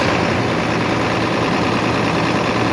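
A diesel engine runs close by under throttle during a back-compression check, giving a steady, loud low rumble with vibration throughout and no talk.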